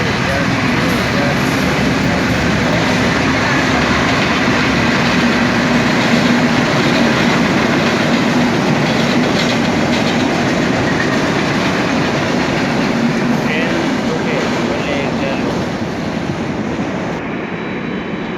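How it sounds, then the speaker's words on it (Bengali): A train rumbles steadily past nearby in Mirzapur, Tangail, Bangladesh, loud and continuous, with wheels clattering over the rails throughout. "এই মুহূর্তে ট্রেন চলে যাচ্ছে"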